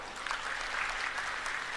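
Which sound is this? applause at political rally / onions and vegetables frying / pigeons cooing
applause at political rally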